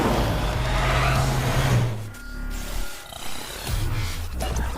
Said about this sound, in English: So that is the new car